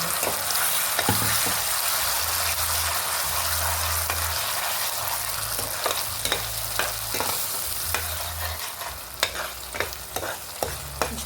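Spinach fries with a steady, hissing sizzle as a spoon stirs and taps the pan every second or so, close and fairly loud.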